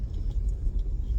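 Heavy road traffic rolls past in a steady low rumble of car engines and tires, continuous and fairly close, with no talking.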